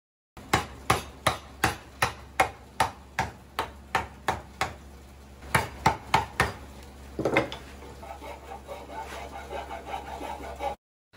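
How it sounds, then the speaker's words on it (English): A chisel struck repeatedly with a mallet while cutting out a curve in a wooden bench leg with hand tools, giving a steady run of sharp, evenly spaced knocks. A looser stretch of scraping and rustling follows, close up, with no speech. "For the bottom curves, I just do the relief cuts again, and then chisel out the curve."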